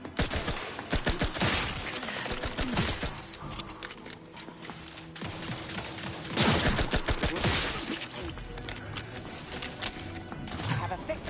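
Gunfire in the video game Outer Worlds 2: repeated sharp shots and bursts, loud and close, clustered into volleys over busy mechanical game sounds, with a voice speaking at times.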